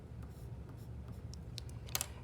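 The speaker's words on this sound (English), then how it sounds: "I'm using a colored pencil now" Colored pencil drawing lines on paper, a soft, faint scratchy scraping in short strokes, close up and alone.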